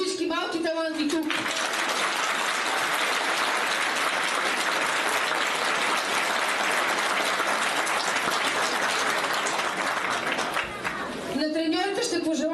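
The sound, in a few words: applause for young football talents at award ceremony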